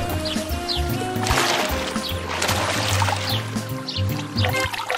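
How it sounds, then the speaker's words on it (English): A cartoon wolf plunges into water, followed by sloshing, pouring splashes with birdsong twittering in the background over a music bed. "Excited, the wolf jumped into the water."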